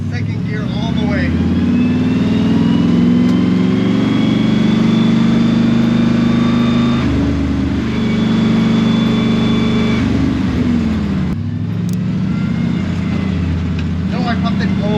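A Mustang car driving held in second gear, the engine a loud, steady low drone heard from inside, broken by a couple of brief shifts in tone.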